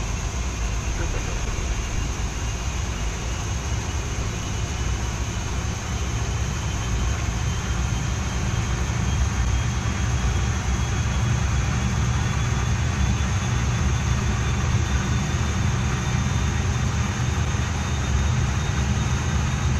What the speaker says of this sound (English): Start switch, engine 2, switch on.